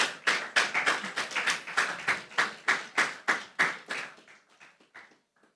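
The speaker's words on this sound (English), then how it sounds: "Let's give them a round of applause," Audience applause for a school team at a schools' public speaking competition, a burst of hand clapping lasting several seconds, steady then thinning out and fading into a few scattered claps at the end.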